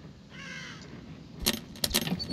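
A drawn-out crow caw is followed by sharp clattering knocks and rattles, fairly close, with a muted background, in the video game The Evil Within.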